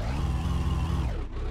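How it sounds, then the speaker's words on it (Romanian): A car that has struggled for minutes to start cranks and turns over with a steady, close, loud engine rumble that dips briefly near the end. "Deci efectiv mă chinui de 10 minute să pornesc mașina asta."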